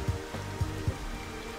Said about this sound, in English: I think it's cool that it's raining right now